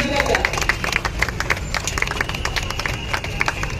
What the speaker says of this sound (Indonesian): Beri tepuk tangan yang meriah bagi kita ya